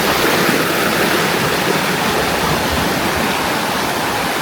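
A rain-swollen stream rushes loudly and steadily down a hillside waterfall chain bordering Hunnasgiriya, with a dense, continuous roar close by and no voices.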